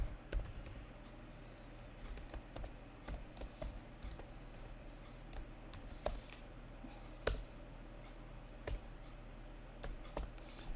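Number keys tapped on a computer keyboard, a run of separate clicks and short bursts of typing, fairly close but quiet, over a low steady room hum with no talking.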